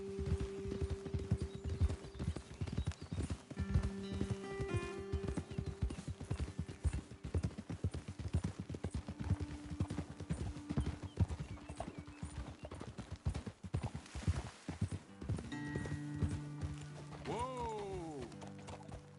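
Horse hooves clip-clop steadily on a trail in Red Dead Redemption 2, several horses walking under faint background music, with a horse whinnying near the end.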